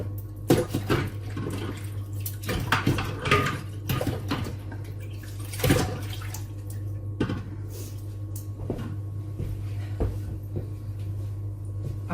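Water sloshes and splashes as a dish is washed in a sink of soapy water, with clinks and knocks of crockery coming in irregular bursts up close.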